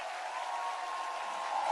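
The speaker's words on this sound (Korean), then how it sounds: "큰 함성과 박수로" A large congregation at a Korean church gathering applauds and cheers to welcome the arriving general assembly president, a steady, even wash of clapping that holds at a moderate level and swells slightly near the end.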